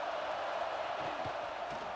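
A steady wash of stadium crowd roar from a college football video game, Indiana at Oregon, sustained and broad with no distinct voices standing out.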